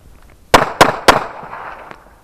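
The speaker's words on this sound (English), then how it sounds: "draw from the holster, firing from the inside ready, 3 rounds" Three sharp pistol shots ring out at a training range, fired in quick even succession from the ready position after a draw from the holster. Each crack is loud and close, and the echoes trail off afterward.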